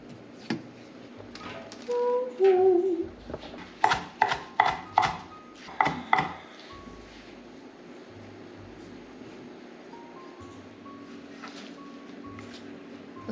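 A knife chops fresh basil on a cutting board in a quick burst of about six crisp, close taps, with some soft handling noises before and a quiet room hum after.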